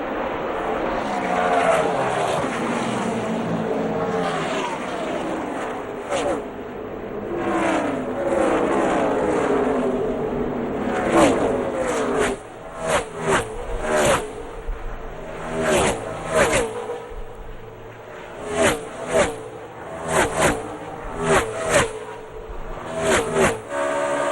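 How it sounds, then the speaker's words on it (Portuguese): NASCAR race cars at Texas in 2008 roar past in a loud, continuous engine drone, then a series of sharp whooshing pass-bys in quick succession, with commentary speech over the noise. "aqui vinha o piloto Kyle Busch também ultrapassando Jeff Gordon"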